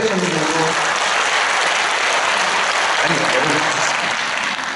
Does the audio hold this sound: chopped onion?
no